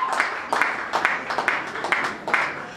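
A crowd claps in rhythmic bursts at a Congolese family wedding celebration, the claps falling in regular pulses about every half second, fairly close and moderately loud.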